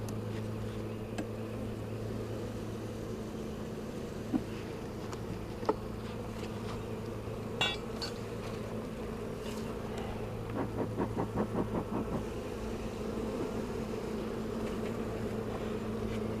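Honeybees buzzing steadily around an open hive during an inspection, a dense continuous hum with individual bees passing close now and then, and faint background noise.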